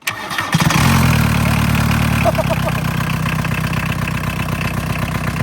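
Barn-find VW Caddy diesel engine catches after a brief crank and settles into a loud, steady clattering idle, close by and continuous to the end.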